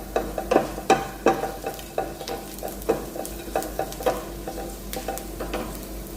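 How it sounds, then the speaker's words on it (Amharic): Onions sizzle in a pan as spices are stirred in for a Mandi rice dish, with a steady fry under repeated close scraping strokes of a spoon. "ሽንኩርቱ እንደዚህ በሰል እንዳለ ቅድም የጨመርኩትን ቅመም ትንሽ ትንሽ ነው ያደረኩት። ሁሉንም ጨምራለሁ።"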